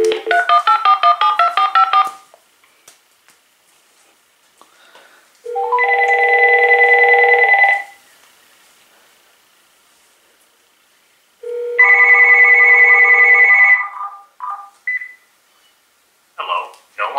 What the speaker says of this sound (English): now let's call it up on the speakerphone by redialing the number